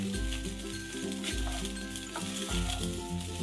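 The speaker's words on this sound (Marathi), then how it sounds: "तर 2 ते 3 मिनिट छान असं परतून घ्यायचं आहे जिऱ्यामध्ये राईस।" Rice with cumin seeds being sautéed in a pan gives a steady close sizzle with soft scraping stir strokes at regular intervals, with no talking.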